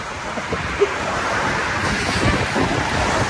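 Strong wind buffets the microphone in a continuous rushing roar, with the broad wash of surf blending in underneath.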